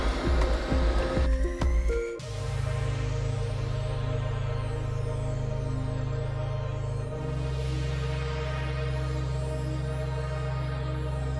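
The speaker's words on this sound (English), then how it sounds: "we start sewing from the top to the bottom" A sewing machine stitches the bottom tape of a hoodie with a steady, close motor whir that starts after a brief clatter of handling and drops slightly in pitch partway through.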